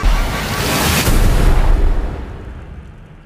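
Spacecraft thrusters firing as a film trailer effect: a loud, close, rumbling roar that swells for about two seconds, then fades away, with no voices.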